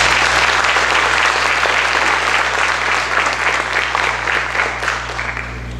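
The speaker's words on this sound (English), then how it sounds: "Please give a round of applause for Peyton Alger." Loud, sustained applause from an audience at a 2024 high school academic awards ceremony, with dense clapping that fills the whole stretch and tapers slightly toward the end.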